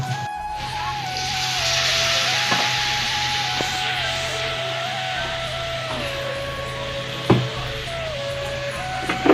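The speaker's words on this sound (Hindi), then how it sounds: "ये दे मस्त भुंजात है भाजी है, खेड़ा भाजी है।" Khedha bhaji greens frying in a pan give off a steady, close hiss of sizzling, with a low hum running underneath and a few sharp knocks near the end.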